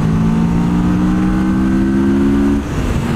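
A Mash FR750 motorcycle accelerates hard in third gear on a straight road, its engine revving in a loud, rising steady drone before easing off near the end, recorded close on board.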